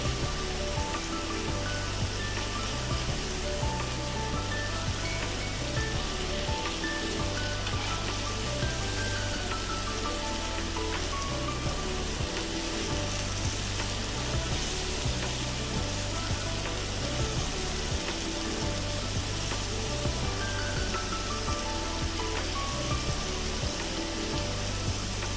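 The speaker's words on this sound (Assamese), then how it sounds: "আকৌ এবাৰ মই উল্টাই কৰি দিম। ভালকৈ যাতে ফ্ৰাই হয় একেবাৰে ভিতৰলৈকে।" Chicken pieces fry in hot oil in a pan for easy fried chicken, a dense steady sizzle and crackle that continues unbroken and fairly loud throughout, close up with no talking.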